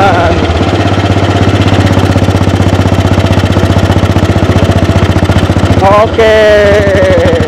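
A 1948 AJS 500 single-cylinder British motorcycle revs hard and pulls up through the gears, a loud, close, steady thumping engine note with a brief dip and rise at a gear change; a voice speaks briefly.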